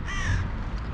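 Crows cawing at a bird feeding area where ducks, pigeons and sparrows gather; a couple of loud, harsh caws ring out close by in a quick burst, with no talking.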